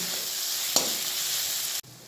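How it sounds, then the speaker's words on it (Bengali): Ginger-garlic paste frying with onions in hot oil for a dhaba-style chicken masala, a steady close sizzle with one sharp stir clatter near the start, cutting out abruptly just before the end. "আদা রসুনের পেস্টটাকেও সুন্দর করে পেঁয়াজের সঙ্গে ভালো করে ভেজে নেব"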